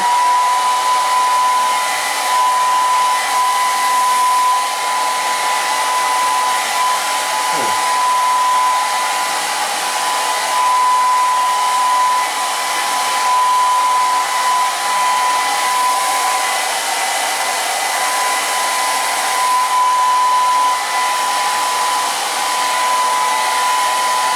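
A hair dryer blows continuously and loudly while hair is being styled with wax, a steady close-up rushing whoosh with a constant motor whine for the whole stretch.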